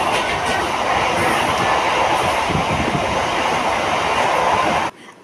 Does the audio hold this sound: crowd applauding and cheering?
no